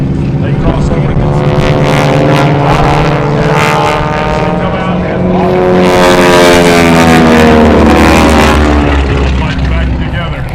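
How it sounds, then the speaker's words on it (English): Historic T-6 Texan propeller airplanes perform at an air show in Waterloo, a loud, close, rasping propeller roar that rises and falls as the aircraft pass and loop overhead. "back together as the two historic airplanes head off on the y-axis."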